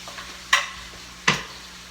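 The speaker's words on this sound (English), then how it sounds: "I'm just going to add them in and heat them up" Tomatoes being stirred into broccoli rabe in a frying pan, giving two short scraping stirs with a soft sizzle underneath, close and moderately loud, without talk.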